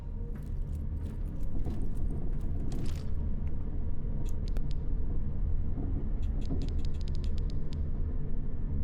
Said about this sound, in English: This is a long elevator ride.